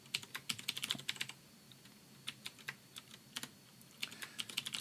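Quiet bursts of typing on a computer keyboard as a new password is entered, short clusters of key clicks separated by brief pauses, close and alone.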